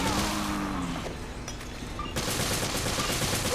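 Gunfire at an enemy in Resident Evil Revelations, a dense run of loud gun reports and impacts over constant game noise, with a sharper burst of shots after the two-second mark.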